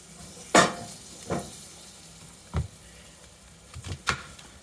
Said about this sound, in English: Now we're going to add some onions.